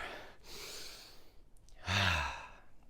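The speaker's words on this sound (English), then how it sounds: "let's all take a deep breath together" A group inhales and then exhales together in a deep breath during a guided moment, quiet and airy, ending in a fuller, louder sigh near the end.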